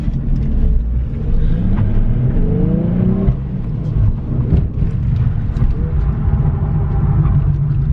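A car engine revs hard and continuously during drift training on a track, a loud sustained roar with rising and falling pitch and tyre noise throughout, with no gaps.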